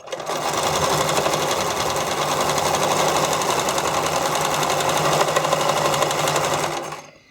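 Stitching skate covers, a sewing machine runs continuously and loudly for about seven seconds with a fast, even rattle before stopping.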